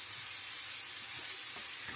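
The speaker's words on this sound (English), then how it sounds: "just sizzling away for these carrots to get cooked" Carrots sizzle in a pan over medium heat, a steady, even hiss of frying that runs the whole time without a break, fairly close and with no voices over it.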